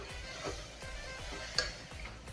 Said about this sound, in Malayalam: ഇഞ്ചിയുടെയും വെളുത്തുള്ളിയുടെയും ഒക്കെ പച്ചമണം മാറുന്നത് വരെ നന്നായിട്ടൊന്ന് വഴറ്റിയെടുക്കണം.